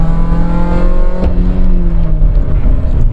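Modified, rusted Opel Corsa engine revving hard under acceleration from inside the moving car, a loud continuous drone that climbs in pitch, drops briefly at a gear change and climbs again.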